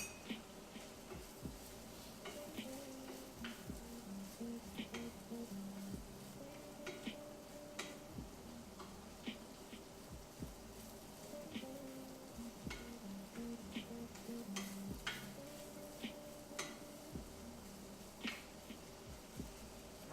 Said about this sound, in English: We're gonna let that saute just a touch before we add in any liquid